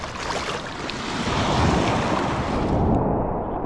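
Ocean surf washing onto a beach after a storm: a loud, continuous roar of breaking water and rushing foam, heavy with wind buffeting the microphone, swelling slightly toward the middle.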